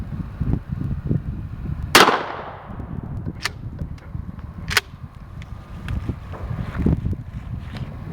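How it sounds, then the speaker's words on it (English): A Remington 870 12-gauge shotgun with a 20-inch barrel fires Suprema 00 buckshot outdoors: one sharp, loud blast with a decaying tail, followed by fainter cracks amid wind and background rumble. "Suprema double-aught buck out of a Remington 870 with a 20-inch barrel."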